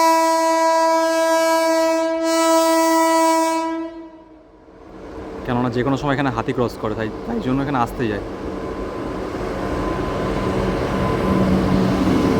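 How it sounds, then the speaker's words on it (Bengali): The Kanchankanya Express passing slowly through a wildlife sanctuary, a long loud horn blast up close followed by the rumble and rhythmic clatter of the wagons, while a person talks over the passing train. "এটা কাঞ্চনকন্যাই পাস করছে, লেট হয়েছে আজকে।"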